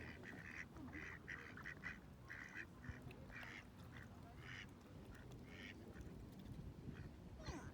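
Repeated quacks in quick bursts from a duck with an injured wing, fairly close, over a steady background of outdoor noise by a river in Minden, Germany.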